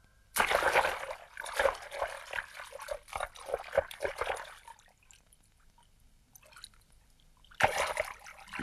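River water rushing and splashing around a hedgehog in a 1975 animated film, with loud gushing bursts early on, a quieter trickling stretch in the middle, and a fresh surge of flowing water near the end.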